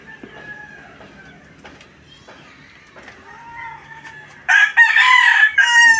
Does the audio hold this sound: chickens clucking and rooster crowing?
yes